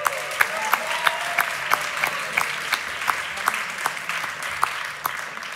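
Concert audience applauding the bass player, a steady room-filling clap with a rhythmic, evenly spaced loud clap cutting through, no talk over it.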